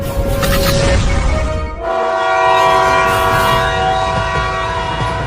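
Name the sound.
cartoon train running with horn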